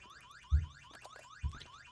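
Alarm blaring in a zombie video game, a loud warbling car-alarm siren sweeping up and down continuously, with two dull low thuds underneath.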